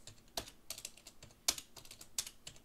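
Typing on a computer keyboard, a quick run of close, crisp key clicks with a few louder strokes, irregular in rhythm.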